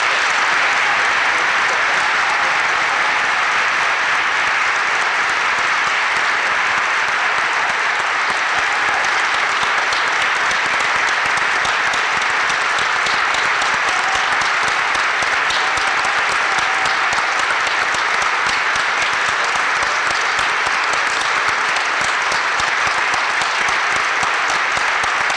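Sustained audience applause fills a college hall right after an oath of office at Luzerne County Community College, a dense, steady wash of clapping that holds loud and unbroken throughout with no voices over it.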